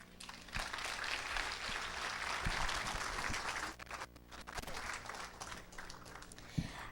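An audience applauding at the close of an engineer's talk at the Vestitec 2014 textile event, a steady sustained clapping from a room full of people at moderate distance, with a few sharper nearby claps.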